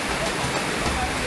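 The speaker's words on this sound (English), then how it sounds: "And we visit the tallest waterfall I have ever been to." A very tall waterfall roars as a steady, dense wash of broadband rushing water, loud and constant throughout.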